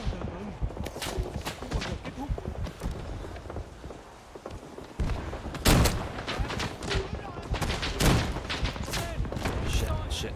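Machine gun fire in the World War-era shooter Rising Storm 2, with dense bursts of rapid shots and sharp cracks striking repeatedly, some close and loud, others more distant, amid battlefield clatter and a voice speaking at times.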